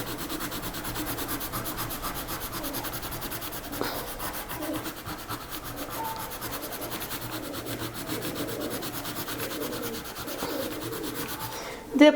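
Colored pencil shading purple across paper while a wall is filled in on a three-point perspective drawing of a transparent object: a close, steady, scratchy rubbing that runs unbroken for the whole stretch, with no talking.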